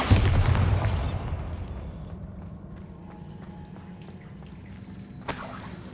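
Bombarda blasting spell in Hogwarts Legacy: a loud booming burst at the start that decays into a rumbling tail, followed by quieter ambience and a second smaller pop near the end.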